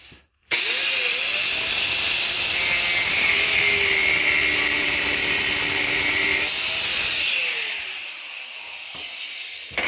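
Angle grinder cutting through a metal toilet flange stud, a loud continuous high-pitched whine for about seven seconds that fades as the disc spins down, with no talking.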